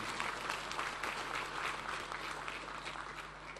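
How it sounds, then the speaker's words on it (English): A round of applause for the host at a world peace forum, dense even clapping from a large audience sustained throughout, heard from a distance in a big hall. "give a big round of applause to the host"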